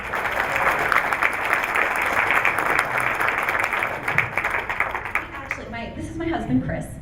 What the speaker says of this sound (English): one more round of applause for Allison Lane